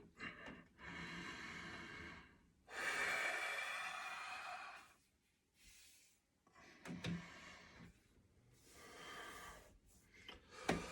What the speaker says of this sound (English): You're gonna breathe in. Breathe out, continue.